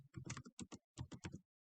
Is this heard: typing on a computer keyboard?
yes